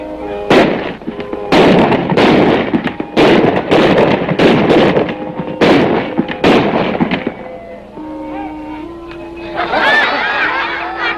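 Sharp broadband bangs from a staged gunfight at a western show, about seven shots fired in an uneven sequence over a couple of seconds each, loud and close, followed by a quieter stretch of tonal background sound.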